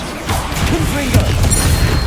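Confringo blasting spell from Hogwarts Legacy: a loud burst with a booming, crashing impact and rumbling low end, followed by sustained crackling debris.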